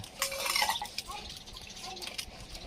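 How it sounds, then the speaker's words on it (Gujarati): Dishes and utensils clink and clatter while being washed, with intermittent scraping and knocking at close range, and faint voices in the background. "વાસણ ઉડકે છે"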